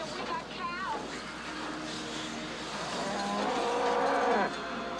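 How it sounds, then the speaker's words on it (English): Cows moo during a storm scene in the movie Twister, drawn-out lowing calls rising over wind and vehicle rumble, with people talking over them. "We got cows."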